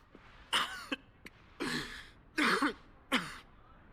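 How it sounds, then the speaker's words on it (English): A Final Fantasy XVI character coughing up blood, four harsh wet coughs in a row, loud and close with short gaps between them. "Still coughing up blood."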